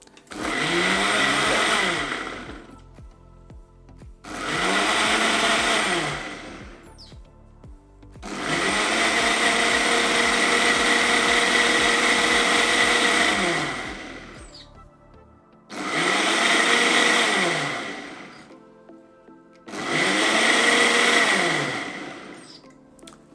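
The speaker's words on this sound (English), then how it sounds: "Turn our blender on." A Ninja blender whirs through a turmeric drink in five loud motor bursts. Each one spins up and winds down, with short quiet pauses between them and the third burst running longest.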